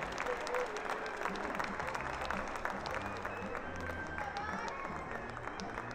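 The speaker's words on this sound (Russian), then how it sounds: "Аплодисменты полуфиналистов." Crowd applause for junior ballroom dance semifinalists at the Minsk Open Championship, a steady wash of clapping filling the hall throughout, with some voices mixed faintly underneath.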